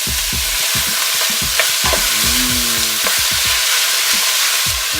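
Onions, garlic and ginger hiss loudly in hot oil, with repeated scraping strokes of a spoon stirring the pan up close and no voices.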